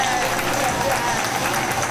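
Arena crowd at an independent pro wrestling championship show roaring and applauding a wrestler, a dense, steady wash of cheers and clapping throughout, with a commentator's voice mixed underneath.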